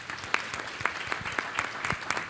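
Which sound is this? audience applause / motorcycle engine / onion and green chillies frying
audience applause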